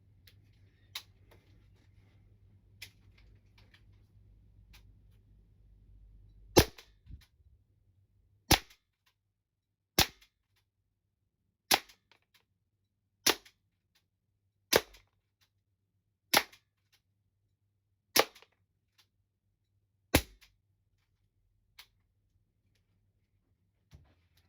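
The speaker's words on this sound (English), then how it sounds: "So I loaded up 8 rounds, so we'll go ahead and fire them 8 rounds" A GAMO MP-9 blowback air pistol fires eight rounds from about five or six meters, each shot a sharp, loud crack spaced a couple of seconds apart, following a quiet stretch with low background hum.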